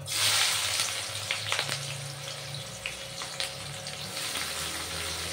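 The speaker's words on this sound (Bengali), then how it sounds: "কড়াইতে তেল দিয়ে দিয়েছি, তেল গরম হয়ে গেছে। এবার পেঁয়াজ কুচি, রসুন কুচি, লঙ্কা কুচি দিয়ে দিলাম।" Chopped onion, garlic and green chilli hit hot oil in a karai for a Bombay duck fish fry, a loud initial hiss settling into a constant sizzle with scattered spatula scrapes.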